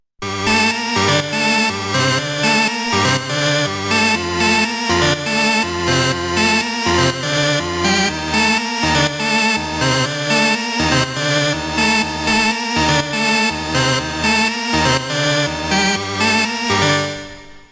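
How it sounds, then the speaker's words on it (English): Melodic techno synth lead in the Afterlife style plays an intricate, busy pattern over a steady full mix with a thumping beat, loud and continuous for nearly the whole stretch before a brief fade at the end. "Then we have the lead, which sounds like this."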